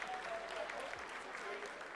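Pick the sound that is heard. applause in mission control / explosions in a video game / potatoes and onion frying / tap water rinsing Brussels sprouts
applause in mission control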